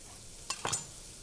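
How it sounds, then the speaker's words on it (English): Onion, carrots and celery in a pot for chicken noodle soup, a low steady sizzle with two brief scraping stirs of a utensil against the pot, and no voices. "anything you put into a pot or a pan's got to have a sizzle"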